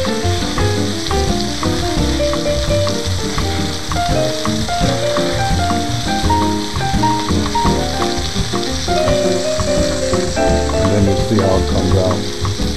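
Garlic fries in a pan as the base for a salmon dish, a loud, steady sizzle with scattered stirring scrapes throughout and no voice.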